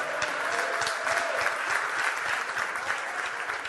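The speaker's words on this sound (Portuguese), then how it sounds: "Você pode aplaudir nessa noite?" A congregation applauding, dense continuous clapping from many hands filling the room at a steady level throughout.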